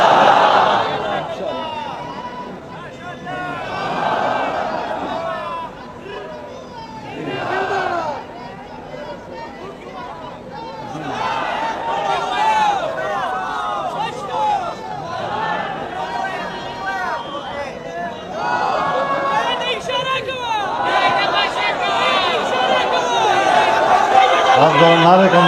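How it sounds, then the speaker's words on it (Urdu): Crowd at a political rally in Chenab Nagar, 2025, chanting slogans in loud rhythmic waves and bursts of shouting, mixed with an amplified voice addressing the gathering. "آپ ذرا نعرے کم لگائیں۔"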